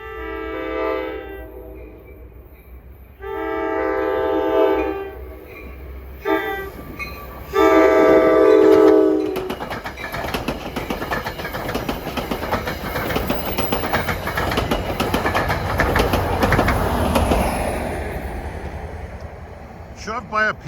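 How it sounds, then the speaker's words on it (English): NJ Transit push-pull commuter train on the Main Line, shoved by an Alstom PL42AC diesel locomotive, blasting several loud horn blasts before the roar and rumble of the passing train builds and holds, with faint talk. "Shoved by a PL42 AC built by Alstom."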